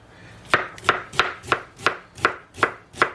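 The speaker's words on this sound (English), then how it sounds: "And then I want to slice it" A knife slices through food on a cutting board while brunch is prepared, eight crisp, evenly spaced cuts about a third of a second apart, close and clear with no talking.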